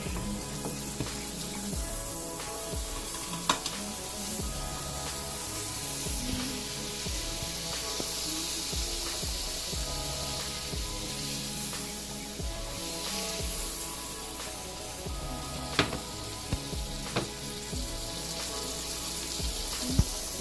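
Steak frying in butter in a pan gives a steady, dense sizzle throughout, with a few sharp spits and pops near the end and no talking.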